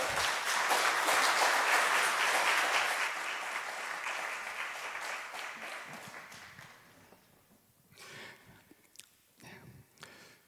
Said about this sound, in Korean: 모실 때 큰 박수로 맞으시면 감사하겠습니다